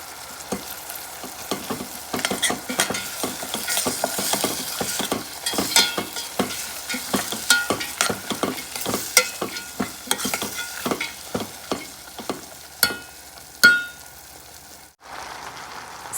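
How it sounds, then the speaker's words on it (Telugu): Chana dal frying with onions and ginger-garlic paste in a pan gives a continuous sizzle, broken by repeated scraping clicks from stirring and one louder knock near the end. "శనగపప్పు అండి ఒక ఫైవ్ మినిట్స్ అలా ఫ్రై అయిన తర్వాత"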